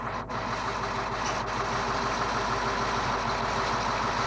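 A diesel engine idles steadily at moderate distance, a low continuous rumble with a faint even throb and no voices.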